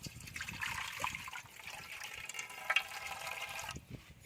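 Water trickles and splashes softly into flour for a few seconds, a small pour with faint gurgling, quiet and close, then stops near the end.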